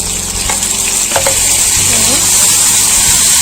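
Browned onions sizzle steadily in a pan of hot oil as tomato and lemon go in, a continuous frying hiss with a few soft stirring knocks and scrapes close by.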